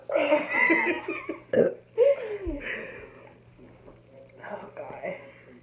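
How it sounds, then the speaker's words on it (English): A long, low croaking burp rises during a burping challenge, mixed with people laughing and chattering nearby, followed by quieter murmurs and giggles. "I might have the longest burp."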